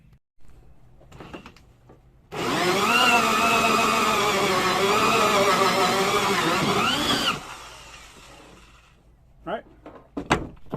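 A loud, steady power drill whine runs for about five seconds, its pitch wavering slightly as it bores through wood in a Ram Promaster City van, followed by a few light knocks and clatter.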